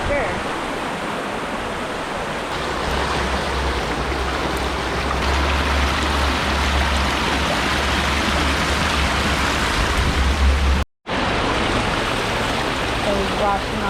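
Steep river in Jamaica rushes loudly and steadily beside an outdoor jerk chicken cooking spot, a constant broadband wash of flowing water with a brief dropout near the end.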